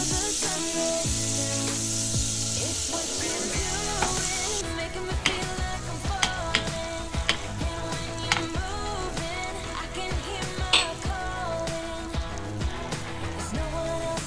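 Butter melts and sizzles in a pan as the base for a cheese sauce, a steady bright hiss for a few seconds that then gives way to music with light tapping clicks.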